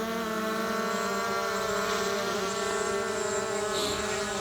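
A DJI Mavic drone flies nearby, its propellers giving a steady, loud, high-pitched buzzing whine with layered harmonic tones that holds constant throughout with no talking.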